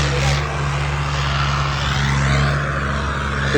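A tractor engine roars at full power during a tractor pulling contest at the Tawiyan fair, a loud, steady, close drone with a deep droning hum that holds throughout the whole stretch.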